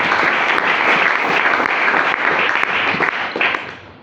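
A church congregation applauds loudly, with dense, steady clapping from a large crowd that fades at the end.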